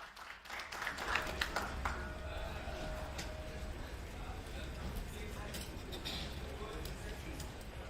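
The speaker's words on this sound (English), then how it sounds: "Let's give them another warm round of applause" Audience applause at the IEC-AFRC 10th anniversary event, a fairly faint, steady patter of many hands clapping that carries through the full eight seconds.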